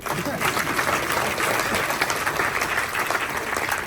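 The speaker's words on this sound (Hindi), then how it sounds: "जोर से ताली नहीं बजाएंगे।" An audience at a formal address gives loud, continuous clapping that fills the room evenly from start to finish.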